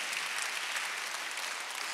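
Steady, dense applause from a church congregation during a Sunday worship sermon, a continuous even wash of many hands clapping without pause or speech.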